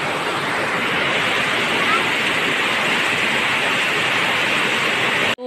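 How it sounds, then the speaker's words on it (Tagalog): Rain falls steadily as a dense, even hiss of broadband noise that holds at constant strength before cutting off abruptly at the end. "Humina na po yung ulan"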